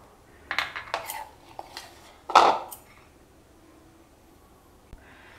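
Semolina batter is spooned into the oiled plates of an idli maker, giving a few light metallic clinks and scrapes of spoon against the plates, close by and spread over several seconds, with one sharper knock in the middle.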